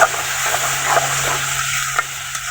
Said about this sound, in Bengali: এরপরে দেওয়া হলো পেঁয়াজ বাটা মশলাটাকে কষিয়ে নিতে হবে